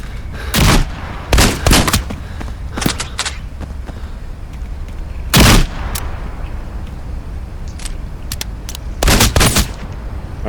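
Gunfire in the VR shooter Into the Radius 2: several sharp loud bursts of shots, some single and some in quick clusters, spread irregularly over a steady background hum with no talk.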